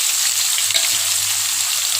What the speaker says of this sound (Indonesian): sekarang kita tumis bahan bumbu yang kita blender tadi